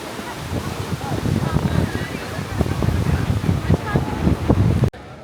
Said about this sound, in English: Here we are, right up at the top of very famous Bondi Beach.